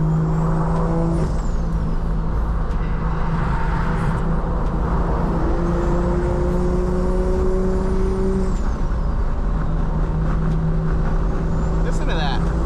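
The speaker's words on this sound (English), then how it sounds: "I literally can't get over how good this car sounds." A single-turbo BMW F80 M3 engine droning steadily under load while driving, with sustained tonal exhaust and turbo notes rising and shifting, heard from inside the car alongside occasional talk.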